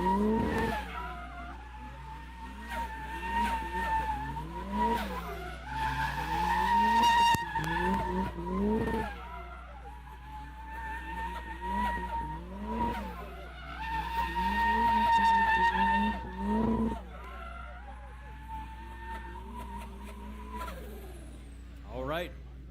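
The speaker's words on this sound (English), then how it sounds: "The Miata, one of the coolest sounding cars here." A Mazda Miata drift car at a drift competition final revs and screams through long tire squeals, the engine note rising and falling in sweeping bursts while an announcer talks over it.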